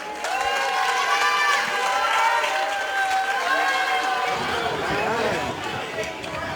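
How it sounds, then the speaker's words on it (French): Crowd applause and cheering for a champion team and its coaches at an awards gathering, a steady mass of clapping mixed with shouts and voices, with talk over it throughout. "On peut les applaudir s'il vous plaît."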